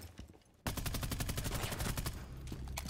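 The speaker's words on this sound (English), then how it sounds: "her gun fucking kicks. Ella's." Rapid automatic gunfire from a hard-kicking rifle in a tactical shooter game, a sustained burst of evenly spaced loud shots starting abruptly after a quieter moment and running to the end.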